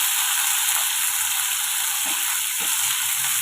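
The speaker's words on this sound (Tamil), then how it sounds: "தக்காளி ஒரு வத்தல் பூண்டு இஞ்சி இதெல்லாம் சேர்த்து நம்ம வதக்கி வச்சுக்கலாம்" Tomato, dried red chili, garlic and ginger sautéing in a hot pan for a quick Tamil breakfast dish, a steady, close, continuous sizzle with faint stirring touches and no talk.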